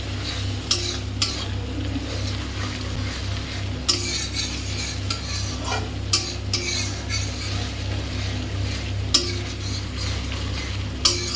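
A ground masala of dried red chili, ginger and garlic frying in oil with meat, stirred now and then with sharp scrapes and clinks over a low steady sizzle and background hum, close, no talk.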